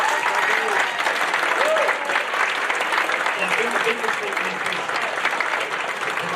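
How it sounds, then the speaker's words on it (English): Continuous crowd applause at a football club's player of the season awards night, with a voice talking over the clapping. "big round of applause for that as well"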